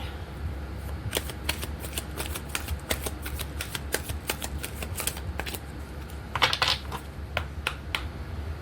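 Tarot cards are shuffled by hand in brisk bursts of crisp flicking and snapping, with quick clustered riffles and short pauses between them, close and clear.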